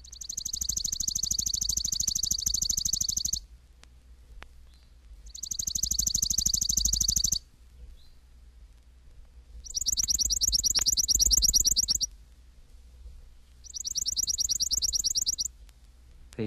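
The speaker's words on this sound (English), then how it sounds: "235, Chipping Sparrow." A Chipping Sparrow sings four dry, rapid, mechanical trills on one pitch, each lasting two to three seconds with short silent gaps between them, loud and close.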